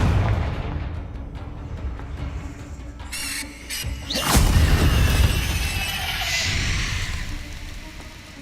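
A Confringo fire spell blasts in Hogwarts Legacy, a sharp burst near the middle followed by a crackling, roaring rumble over a busy backdrop of game effects and squeals.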